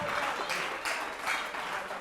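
Studio audience applause at a televised semi-final contest, a brief wash of steady clapping at moderate level with no voices over it.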